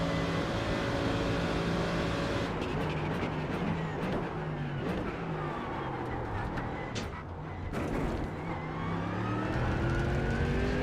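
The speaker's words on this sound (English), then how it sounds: "That is an LMP2 out of the pits behind me." Simulated iRacing race cars roar at Monza with an LMP2 prototype coming up behind, engine pitch rising and falling through gear changes over a dense, continuous motor drone.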